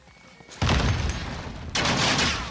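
Heavy crossfire gunfire in a video game: a dense, loud fusillade of overlapping shots and booms that erupts suddenly, runs continuously, then swells again toward the end.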